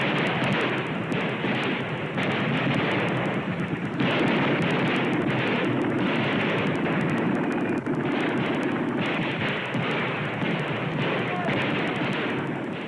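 Staged World War I battle scene with German machine gunners firing, dense continuous gunfire and blasts filling the whole stretch, loud and close with rapid bursts and no pauses.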